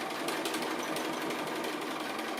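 A sewing machine stitches applique in a rapid, steady mechanical chatter, close and continuous throughout, without anyone talking.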